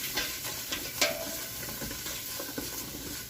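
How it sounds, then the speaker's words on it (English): Vegetables sweat in a pan for a marinara sauce, a quiet, close sizzle broken by light scraping and clinking strokes as they are stirred around. "Let that sweat, stir it around."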